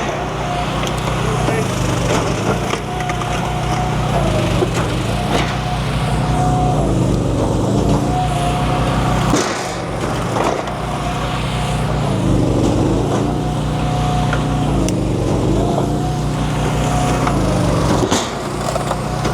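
A firewood processor splits logs at a Paul Bunyan Show, its engine droning loud and continuous with wood cracking and knocking through it, while voices speak faintly in the background.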